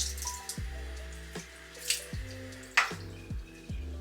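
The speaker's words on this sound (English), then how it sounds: "So I'm gonna actually wet my face because it feels a little dry." Water splashes and drips at a bathroom sink while someone wets their face before shaving: a handful of short, close wet slaps come in an irregular rhythm over a faint running tap, with no talking.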